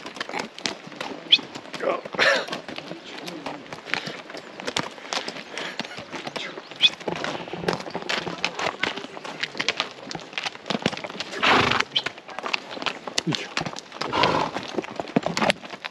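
Horses walking with a steady, busy clip-clop of hooves throughout, fairly close, with an occasional whinny and brief voices in the background.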